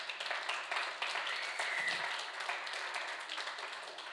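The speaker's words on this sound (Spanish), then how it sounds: "Dale un fuerte aplauso al Señor." A church congregation claps and applauds together, a sustained dense wash of hand claps at fairly even loudness throughout.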